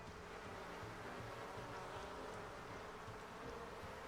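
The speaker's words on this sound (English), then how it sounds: "The bees are in a good mood." Bees buzzing around a hive in The Sims 4, a faint, continuous hum of insect wings that drones on steadily without talk.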